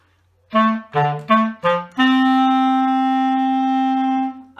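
A clarinet plays four short low notes, then holds a long sustained low note, clear and close with no other sounds.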